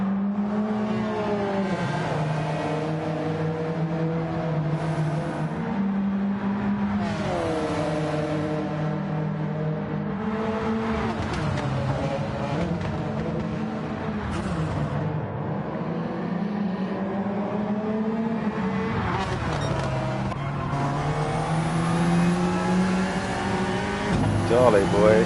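Gr-3 race cars in a racing video game, with engines droning and rising and falling in pitch as they rev and shift on a straight into a corner. Commentary runs over the engines throughout.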